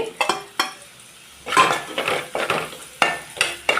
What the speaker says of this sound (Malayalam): ഉള്ളിയും പച്ചമുളകും ഒക്കെ നല്ലോണം വാടി വന്നിട്ടുണ്ട് അതിലോട്ട് നമുക്ക് മഞ്ഞപ്പൊടി കുരുമുളക് പൊടി രണ്ടും മാത്രം മതി